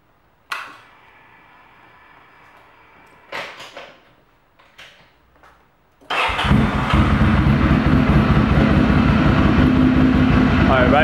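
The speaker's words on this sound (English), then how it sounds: "I'm going to turn on the engine, put it into neutral mode, and then play around with the throttle" An engine cranks and fires into a loud, steady roar while idling and revving in neutral, preceded by a few scattered clicks and knocks of handling.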